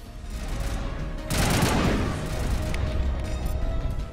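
Video game gunfire with a sniper rifle, a loud burst of rapid shots and crashing impacts over a dense battle background, no voices.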